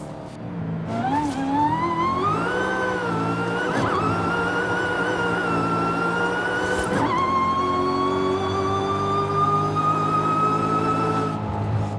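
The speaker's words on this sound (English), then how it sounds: "And listen to that supercharger sound." A high supercharger whine rises and holds steady over a roaring supercar engine in Forza Horizon 5, pitch climbing with each run through the gears, loud and close with no talking.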